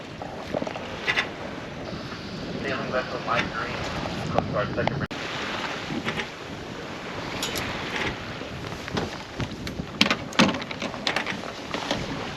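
Sailboat moving under sail on the Chesapeake Bay, with steady wind buffeting the microphone, a rushing of water and occasional creaks and flaps, with a person talking intermittently.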